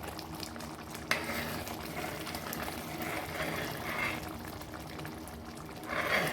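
A thick coconut milk mixture bubbles and sputters steadily in a pan, with soft popping splatters and occasional stirring, close and fairly quiet.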